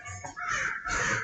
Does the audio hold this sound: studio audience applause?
no